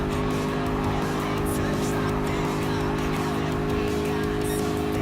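Group 3 race cars in Gran Turismo Sport, a loud steady engine drone with layered tonal whine held at constant level throughout, no clear passes or tire squeal standing out.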